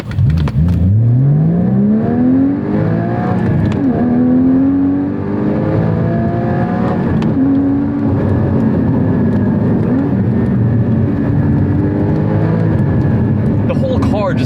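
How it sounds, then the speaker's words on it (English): A Porsche 981 Cayman GT4 with its Sport exhaust enabled drives a bumpy road, its flat-six engine revving up through rising sweeps and settling into a loud, droning cruise. "Now let's enable Porsche Sport exhaust"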